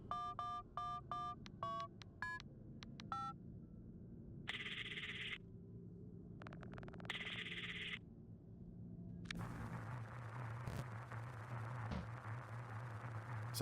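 Phone dialing tones in the Five Nights at Freddy's: Into the Pit video game: a quick run of beeping keypad tones, then bursts of buzzing static and a droning hum that continues to the end.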